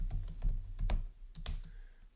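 Keystrokes on a computer keyboard come in quick irregular bursts of close, crisp clicks, loudest near the start and thinning out toward the end, with no voices over them.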